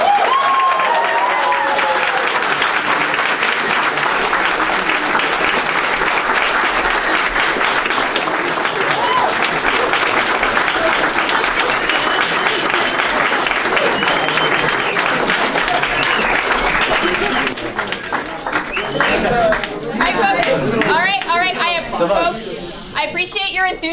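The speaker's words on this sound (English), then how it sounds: "it's absolutely deafening when there's clapping" At a university student council meeting, a large audience claps loudly and densely for about eighteen seconds. The applause then thins into scattered claps, cheers and chatter.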